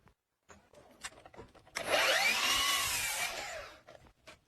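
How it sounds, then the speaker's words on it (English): A miter saw cutting through a wooden board gives a close, loud rising whine as the blade bites and passes through, lasting about two seconds, with light clicks and handling knocks before and after. "Now we can grab our miter saw and cut the line that we made earlier."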